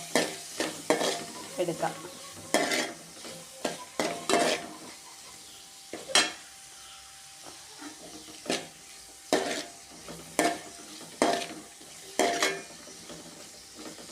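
Onions with salt and turmeric sauté in a pan under a soft, steady sizzle, punctuated by a dozen or so sharp scrapes and knocks of a spoon against the pan at irregular intervals; a voice speaks briefly once.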